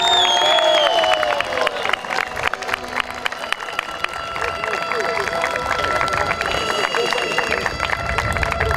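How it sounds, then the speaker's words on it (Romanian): Audience at a blind football awards gala in Bacău applauding and cheering, a crowded wash of clapping and shouts under an amplified voice that runs through the whole clip. "Să-i aplaudăm!"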